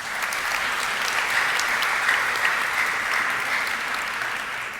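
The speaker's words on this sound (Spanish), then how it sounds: "Agradecemos a la mesa, por favor, con fuertes aplausos." An audience at a youth political leadership training event in a hall applauds the panel with dense, sustained clapping that holds steady at full strength for the whole stretch.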